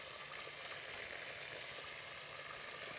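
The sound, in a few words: shish tawook frying in oil and butter in pan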